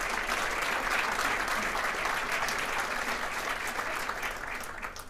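An audience at a regional political address gives a big round of applause, a thick, steady roar of many hands clapping close and loud throughout, easing slightly near the end.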